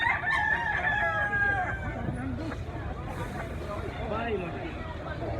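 A rooster crows, a white-legged regular-size bullstag with sweater bloodline, its loud harmonic call in the first two seconds followed by clucks and other fowl amid farmyard noise and background voices.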